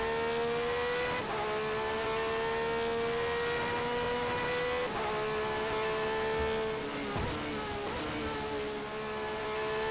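Onboard a race car lapping the Brno circuit in a sim racing game, the engine screams at high revs with steady harmonic whine, briefly dipping at gear shifts roughly every few seconds, loud and continuous.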